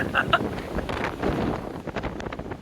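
Strong cyclone wind at a port near the beach, buffeting the microphone in a loud, continuous roar with gusty surges, and a voice speaking briefly under it.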